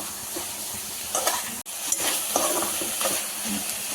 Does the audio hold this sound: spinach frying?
yes